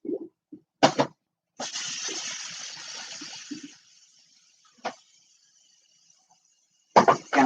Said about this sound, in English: I'm going to rinse out all my cans because I recycle them.